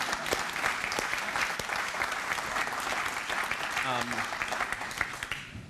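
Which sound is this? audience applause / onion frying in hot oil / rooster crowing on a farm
audience applause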